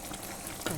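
Fish stirring and frying in a hot pan, a short burst of sizzle with a scraping stir near the end, close and fairly loud.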